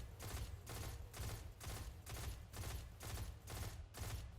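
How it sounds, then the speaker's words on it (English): A pulse rifle fires in bursts in a Destiny shooter game, about eight evenly spaced rapid volleys of crackling shots, loud and close with no talk. "I'm just gonna spam with the pulse rifle"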